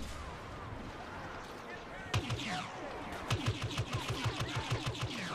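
Rapid gunfire from blasters in Star Wars Battlefront, a steady run of sharp shots in the second half over a busy battle mix, with a player talking throughout.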